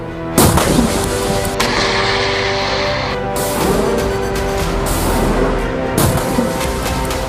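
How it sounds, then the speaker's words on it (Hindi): Hezbollah missiles fired one after another, heavy booming launches at intervals followed by sustained rushing roar, loud and reverberant outdoors. "हिजबुल्लाह एक के बाद एक कई मिसाइल फायर करता है"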